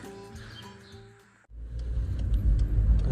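A car drives along the road after a trip back from Kharkiv, its low engine and tyre rumble rising and staying loud and close in the second half, following a quieter stretch with faint birdsong.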